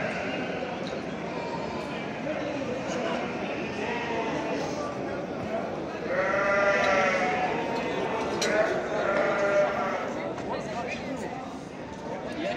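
Lambs bleat repeatedly at a small-livestock market in Çorum, Turkey, several calls rising clearly around the middle, with crowd chatter and people talking throughout.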